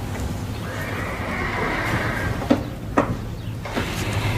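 A horse in an animated series gives a long, loud whinny, followed by a few sharp hoof knocks and thuds on a hard surface nearby.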